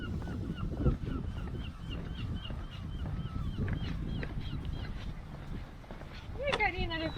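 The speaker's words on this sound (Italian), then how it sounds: "Che carina le papere." Ducks, with gulls nearby, on the Rio Onda along the Portuguese coastal Camino, giving repeated honking and quacking calls at close range over a steady outdoor rumble of water and wind.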